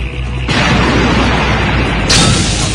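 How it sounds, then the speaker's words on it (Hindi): A bomb planted beneath a military picket blows up: one loud, broad explosive boom bursts in after a short lull, then a heavy rumbling roar carries on with a second surge near the end, with no voices. "मैं पीछे से जाकर इस पिकेट के नीचे बम लगाकर उसे उड़ा दूंगा"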